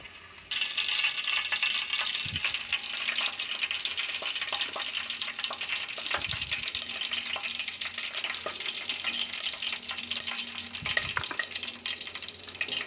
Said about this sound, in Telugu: ఇవి చిట్టుపట్లాడాలి